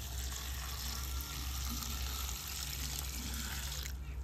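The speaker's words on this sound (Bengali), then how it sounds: "জল আমি 2 থেকে 3 বার পাল্টে পাল্টে আর কি পরিষ্কার করে নেব" Water pours and splashes steadily over raw papaya pieces being rinsed in a bowl, a continuous close washing sound with no talking.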